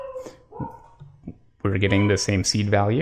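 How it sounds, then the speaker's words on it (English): A dog barks and whimpers in the background with a few short, faint yips early on, then someone talks loudly over the rest. "Please excuse the barking dog in the background here."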